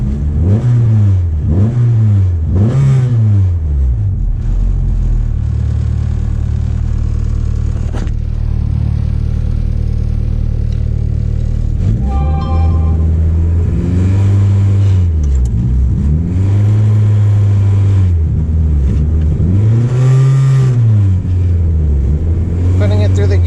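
K24a2-swapped Acura Integra with a six-speed Type S transmission revving up and down through the gears, loud rising and falling engine sweeps with pauses between shifts, close by, with a voice talking briefly.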